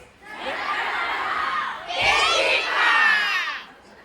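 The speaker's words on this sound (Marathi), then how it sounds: "जोरदार टाळ्या." An audience at the Lokmat Sakhi Carnival cooking event in Solapur erupts in loud crowd cheering and excited shouting, with a brief dip before a second, stronger burst that carries on for several seconds, then fades.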